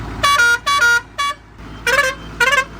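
Multi-trumpet air pressure horn on a heavy truck blaring in five loud bursts, three close together then a pause and two more, with a rich chord-like tone up close.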